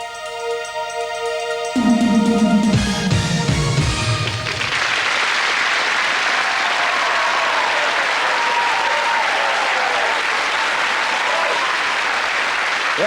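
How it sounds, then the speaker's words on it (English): Studio audience on a BBC game show bursting into sustained, loud applause that swells after a short musical sting and continues evenly for many seconds, with a few cheers mixed in. "Yes, and to the applause of the reprobates, you voted yes."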